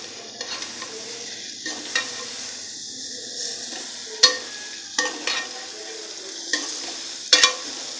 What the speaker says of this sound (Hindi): हमारे आलू यहाँ पक रहे हैं और नरम भी पड़ते जा रहे हैं